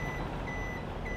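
A truck's backup beeper in the video game Farming Simulator 22 gives two steady high beeps over a constant loud engine rumble, with no talk.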